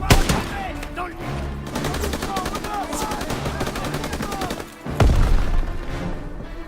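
Dense, loud gunfire from the World War II video game Call of Duty WWII, with rapid rattling bursts and overlapping shots that continue almost without pause, heavier near the end, while voices shout over the battle.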